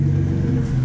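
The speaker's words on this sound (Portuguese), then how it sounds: "Já vou guardar aqui a Porsche no lugar dela." A Porsche 991 sports car is pulled into its parking spot at home, its engine giving a steady, loud, low rumble close by for a brief moment, with no voices.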